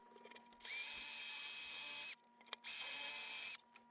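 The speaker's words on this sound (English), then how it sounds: "I measured out a drill bit with a piece of tape on it as a stop" Two short bursts of a power drill boring screw holes into the neck of a 1975 Epiphone FT-140 acoustic guitar, each a steady high whine lasting about a second and a half, separated by a pause.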